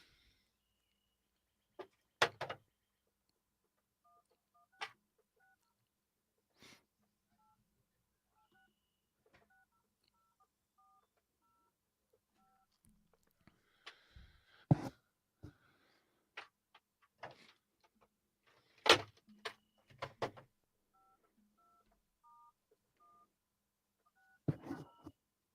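Telephone number being dialed, with short DTMF keypad tones in scattered groups, faint and sparse, mixed with occasional clicks and knocks in a quiet room.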